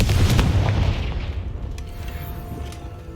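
In the video game Hogwarts Legacy, a Confringo spell bursts as a loud, heavy boom with crackling debris. It fades over a few seconds into a lingering low rumble, with a couple of faint later pops and no talk.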